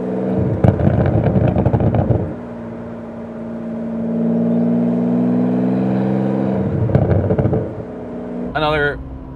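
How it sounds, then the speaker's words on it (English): A Ferrari 575M V12 exhaust revs up hard while driving, with rough rasping bursts between longer smooth sustained drones. It is loud and close, and a brief voice is heard at the very end. "The exhaust is awesome."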